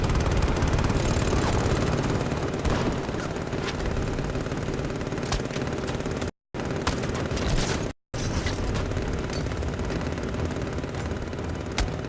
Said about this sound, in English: Drones engaging